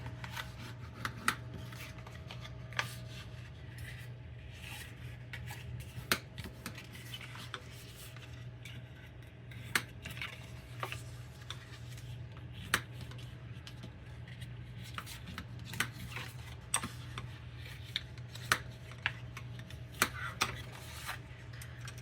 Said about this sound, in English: grabbing my bone folder, we are, we're gonna fold and burnish all of the score lines.